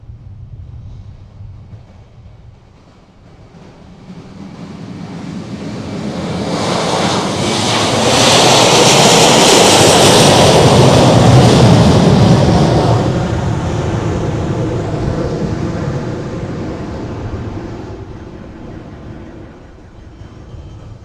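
A JetBlue jet airliner takes off from Princess Juliana Airport, St. Maarten, bound for New York JFK, its engine roar swelling from a distant rumble to a loud, sustained blast, then slowly fading away.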